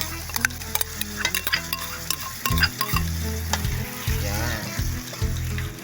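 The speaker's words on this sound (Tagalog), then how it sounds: "lagay na rin natin itong ating gata or coconut milk" Coconut milk poured into crab fat (aligue) sauce frying in a pan, a loud steady sizzle with stirring and a few sharp clinks, a low bubbling rush rising partway through, close and continuous.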